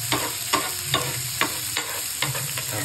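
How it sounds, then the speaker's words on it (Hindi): Asafoetida and cumin seeds fry in hot oil in a pan, with a steady sizzle and repeated scraping stir strokes at an even rhythm, close and moderately loud. "सबसे पहले हींग और जीरे को पैन में डाल लेंगे और इसको तेल से थोड़ा सा पकाना है।"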